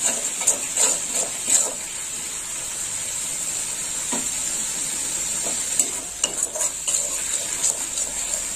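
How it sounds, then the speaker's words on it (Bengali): A spice paste of turmeric and salt fries in a pan with a steady, soft sizzle, and a utensil stirs it with intermittent scraping clicks near at hand. "লবণ আর হলুদ দিয়ে কষিয়ে নেব মশলাটাকে।"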